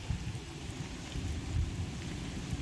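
Rain falls in the misty hills of Nelliyampathy, Kerala, a steady wash of noise with low rumbling underneath, fairly close and constant for a couple of seconds, no talking.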